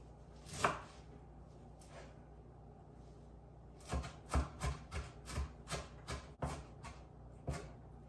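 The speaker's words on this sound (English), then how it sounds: "we'll just chop up a bunch of cilantro" A knife chops a bunch of cilantro on a board: two isolated knocks, then a quick run of about ten close, crisp strokes in a steady rhythm, with no talking.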